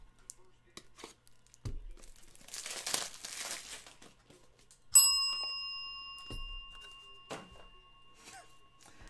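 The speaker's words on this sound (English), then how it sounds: "my left pinky knuckle wanted to hit the bell for James Conner." A metal desk bell is struck accidentally by a knuckle during a sports trading card break, ringing out with one clear bright ding that slowly decays, after rustling and crinkling of card packs.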